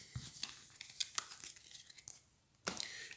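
Game cards from the God of War card game are gathered and discarded on a table, giving close, light papery rustles and crinkles in small bursts, ending with a longer scrape.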